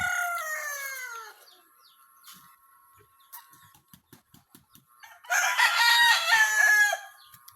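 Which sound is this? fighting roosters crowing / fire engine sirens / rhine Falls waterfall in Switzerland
fighting roosters crowing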